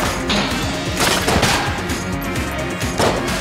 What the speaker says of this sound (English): Didn't expect the ant to shoot fire.